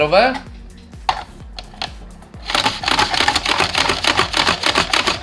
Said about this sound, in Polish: Ścieram na mandolinie, żeby było mniej roboty